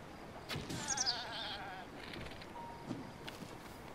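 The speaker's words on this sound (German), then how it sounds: "Ein Ziegenbock." A goat in the video game Zelda: Breath of the Wild gives a short bleat or two over faint ambient game sound, fairly quiet and brief.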